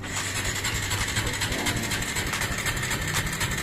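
A Kawasaki Barako 175 motorcycle engine idles continuously at close range, a dense even rumbling drone with no breaks.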